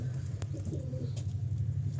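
Andhra pigeons in a Kolkata loft, with low, steady cooing buried under a constant rumbling hum and a few faint clicks, muffled and continuous.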